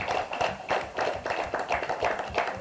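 Audience at a provincial sports federation assembly applauding, a modest patter of hand claps in uneven pulses, moderately near and fairly quiet, with no talking over it.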